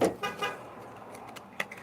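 A couple of short car horn toots sound at a distance over a low hum of traffic, with a brief sharper beep near the end.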